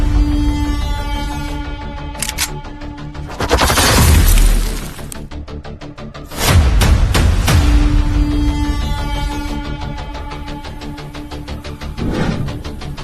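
Rocket launcher carpet bombing barrage in the Russia–Ukraine artillery war: loud rolling blasts and crashing bursts come in two big waves over a sustained rumbling din, with steady rapid crackle throughout and a smaller burst near the end.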